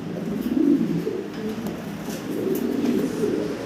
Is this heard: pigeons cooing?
yes